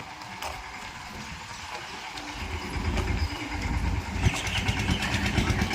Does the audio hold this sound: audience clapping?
no